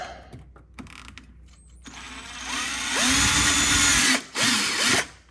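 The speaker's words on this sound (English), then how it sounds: "Okay, with that lined up, we'll get the drill." A power drill drilling into plastic on a Porsche body panel whirs in bursts, winding up to a loud close whine, briefly stopping, then running again before cutting off.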